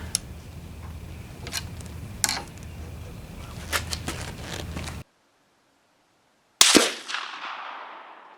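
Sharp shots at an outdoor shooting range: a few crisp reports in the first seconds, then quiet, then one loud close shot with a long ringing decay.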